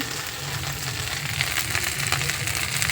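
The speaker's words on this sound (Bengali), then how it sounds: "আর এই সাইডে দেখো মশলা ভাজা হচ্ছে" Spices frying in a pan for a samosa filling give a steady, close sizzle with light crackle throughout, no voices heard.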